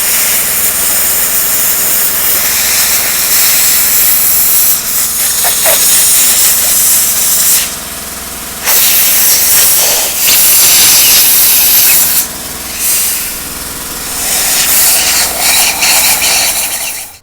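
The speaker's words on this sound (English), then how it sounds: "then the compressed air took a whole lot of it off" Compressed air gun blasting Cosmoline off a Chinese SKS rifle: a loud, continuous hissing spray that runs through the whole stretch, dropping out briefly in a few short gaps before resuming at full force.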